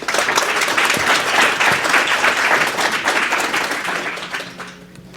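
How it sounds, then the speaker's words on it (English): Audience applause at a tech networking talk, a dense sustained clapping that fades toward the end. "Oh, please give her a round of applause."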